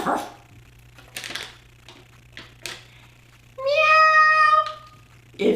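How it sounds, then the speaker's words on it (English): Cat meow and dog bark sound effects: a few short, sharp barks come in scattered bursts, then a loud, drawn-out meow rings clearly near the end over a faint hum. "Is that meow or is it ruff ruff?"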